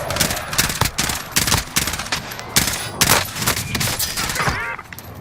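Automatic gunfire in the video game Call of Duty: Cold War Warzone rattles out in rapid, close, loud bursts with sharp cracks and short gaps between volleys.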